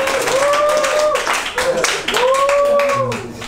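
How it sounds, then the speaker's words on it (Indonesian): An audience claps for a person at a community group gathering, the dense clapping running steadily throughout, with cheering voices and whistle-like calls rising above it. "Tepuk tangan buat Bibi."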